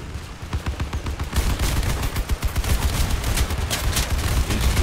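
Rapid gunfire in the vehicle combat game Crossout, dense bursts of shots rattling continuously and growing louder after the first second, with no talk over it.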